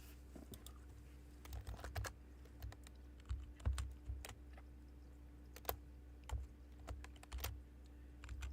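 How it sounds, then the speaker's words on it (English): Irregular bursts of keyboard typing, clicks clustered in quick runs with short pauses, close and fairly quiet against a steady low hum. "Give me a moment, I'm typing."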